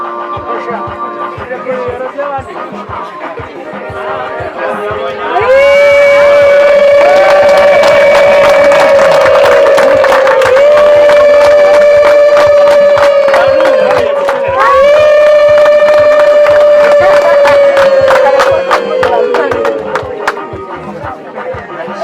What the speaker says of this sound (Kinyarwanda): amashyi n'impundu